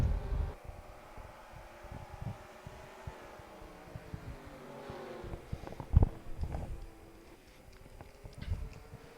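Race car engines in the NASCAR Racing 2003 video game at Bristol, heard as a muffled, wavering engine drone with rising and falling pitch and a few low thumps, moderate in level and without speech.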